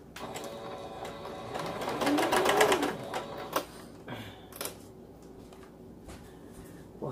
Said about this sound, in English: I'm going to sew this one down